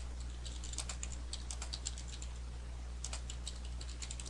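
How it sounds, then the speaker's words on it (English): Steady typing on a computer keyboard while entering notes in EMR medical software, with irregular bursts of quick key clicks, fairly close and moderate in level over a constant low hum. "So you can type anywhere you would like in the note."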